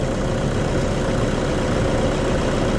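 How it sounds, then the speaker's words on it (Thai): A Toyota D4D diesel engine idles steadily just after starting, a car with a leaking injector and a history of shaking, giving a continuous low, even rumble at close range with no talk. "ตอนนี้สตาร์ทเครื่องยนต์แล้วนะครับ"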